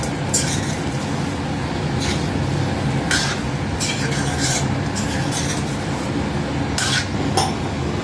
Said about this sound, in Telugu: ఇప్పుడు మనం చికెన్ వేస్తున్నాం. చికెన్ బాగా మిక్స్ చేయాలి.